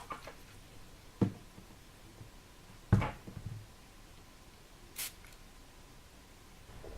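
Too Faced Hangover setting spray is spritzed onto a face in a few short, sharp pumps heard close up, separated by quiet gaps and light handling noises.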